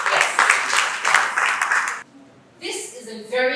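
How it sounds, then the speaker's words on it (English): An audience bursts into applause during a talk about Nigeria's proud achievement, a dense burst of clapping lasting about two seconds, then a brief hush before a voice resumes. "please, a round of applause"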